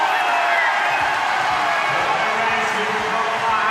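A crowd at a para cycling track event cheers and shouts in a continuous loud roar, with a commentator talking over it.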